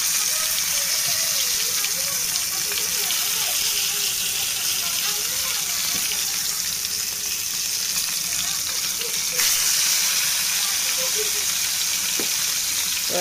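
Stuffed tomatoes, their openings pinned shut with sticks, frying in oil: a continuous hissing sizzle, close and fairly loud, with soft bubbling and a brief clatter near the end.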